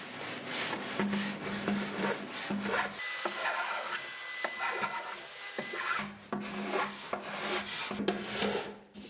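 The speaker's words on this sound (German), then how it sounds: "Und dann schleift man halt, bis es wirklich schon ganz gut ist." A wooden alphorn is sanded by hand, a close, steady rasping rub of abrasive on wood that repeats in long strokes with short pauses, continuous and fairly quiet.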